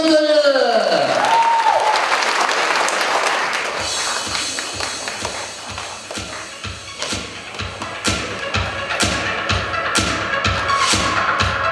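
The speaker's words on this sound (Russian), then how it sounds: "Поддержим аплодисментами!" An audience at a youth sports contest applauds. A loud burst with a rising voice or whistle-like tone at the start thins into dense clapping, and steady rhythmic claps build toward the end.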